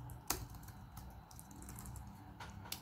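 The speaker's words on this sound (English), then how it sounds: "Just type a quotation mark and hit spacebar" Keys clicking on a computer keyboard with a spacebar press, faint and sparse, a few sharp taps spread across a quiet background with no voices.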